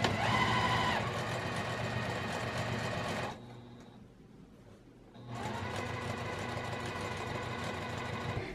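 Sewing machine stitching a double zipper pouch, running in two loud sustained bursts separated by a brief quiet pause, close up with no talking.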